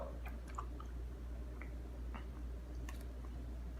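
A large wad of gum is chewed close to the mic, making sparse squishy smacks and clicks over a constant low electrical hum.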